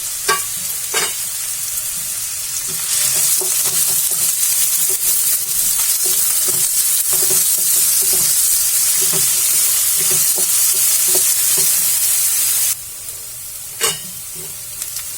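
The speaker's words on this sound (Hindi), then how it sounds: "ये 2 प्याज है। अब इसे हम भून लेंगे।" Steady loud sizzling of onions frying in a hot pan, with occasional stirring scrapes and clicks, continuous and close, no talking.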